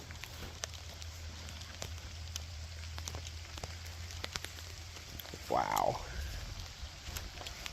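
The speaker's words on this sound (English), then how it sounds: "It is raining pretty good now, but that's okay because the bugs went away." Rain falling outdoors at Hopewell Furnace, a faint steady patter with scattered drips heard near a water wheel, with a brief exclamation from a voice partway through.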